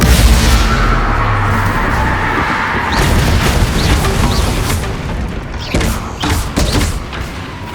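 A spell explosion in Hogwarts Legacy: a heavy, rumbling boom swells and rolls through the game's battle ambience, followed by crackling impacts and debris thuds fading toward the end.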